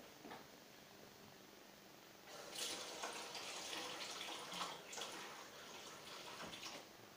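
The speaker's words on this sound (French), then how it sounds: "Je vais quand même remplir un tout petit peu d'eau." A small splash of water runs into a container while making slime, a faint, steady trickle that grows slightly fuller partway through and continues alone.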